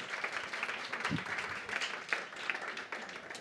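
A small podcast audience claps for a singer, an uneven, moderately loud patter of hands lasting a few seconds.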